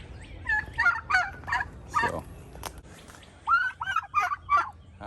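Turkeys in a breeding flock gobble in quick warbling bursts, two clusters of calls separated by a short gap, close and fairly loud, with a single spoken word slipped in.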